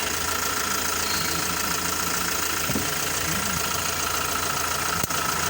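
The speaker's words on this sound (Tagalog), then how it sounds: "papa-start na natin yung engine" An Isuzu Travis truck engine idles steadily with its air-conditioning compressor engaged, a loud, continuous rumbling drone with a faint knocking texture throughout.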